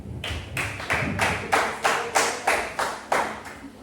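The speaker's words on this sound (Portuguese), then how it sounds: "e as palmas ao Senhor" A church congregation claps in unison during a worship service, about ten sharp, evenly spaced claps in a steady rhythm, fairly close and clear with no talking.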